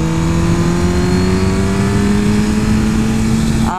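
Steady, loud engine drone of a Suzuki GSX-R1000 superbike heard while riding a twisty road in third gear, its pitch holding nearly constant and creeping slightly upward throughout.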